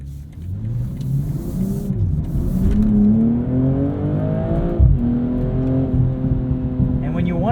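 A 2022 BMW M240i xDrive Coupe accelerates hard from inside the cabin, its engine note rising steadily through the gears with brief dips at shifts, loud and continuous, while someone talks over it.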